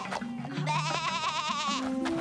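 A cartoon goat bleats in a long, wavering, nasal cry, loud and close, with a short lead-in and tail of lower animal sounds.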